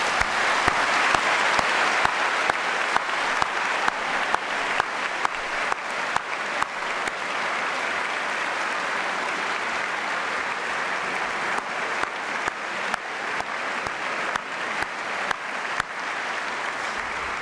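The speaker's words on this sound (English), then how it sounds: "I'd like you to give all these folks a round of applause." Sustained audience applause fills a white coat ceremony hall, steady clapping from a large crowd with occasional sharper individual claps standing out, continuing at an even level throughout.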